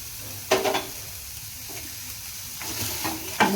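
Onions sizzle steadily in a pan for hotel-style red chutney, a continuous frying hiss broken by several louder scraping stirs of a spoon.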